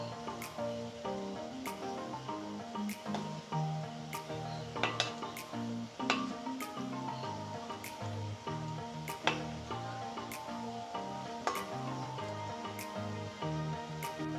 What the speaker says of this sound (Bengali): মিষ্টিগুলোকে একটু আস্তে আস্তে উল্টে পাল্টে ভেজে দেবো।